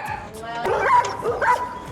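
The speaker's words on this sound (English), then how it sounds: "I played dog barking sounds." Recorded dog barking played back for a cat: a couple of short yips and bow-wow barks with whimpering tones, moderately loud and somewhat close, over a faint background.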